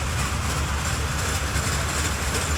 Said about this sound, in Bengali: dragon train